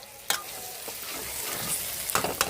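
Steady sizzling of meat frying in a pan, with a few sharp clinks of a utensil stirring against the pan.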